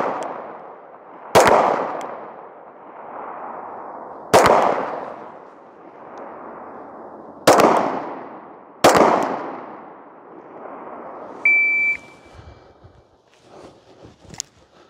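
Pistol shots on a timed shooting course, five sharp loud cracks spaced irregularly over several seconds, each followed by a rolling outdoor echo, then quiet handling noises.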